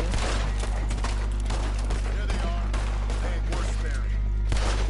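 Gunshots in Red Dead Redemption 2 crack out as several sharp, irregular bursts over a loud, constant low hum, with voices talking throughout.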